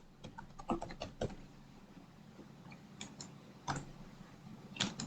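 Fingers type on a computer keyboard, quiet and close: a quick cluster of clicks, a pause, then short scattered bursts of keystrokes.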